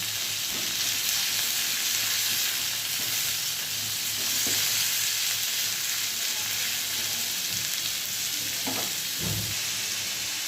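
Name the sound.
frying chopped onion in a pan on medium heat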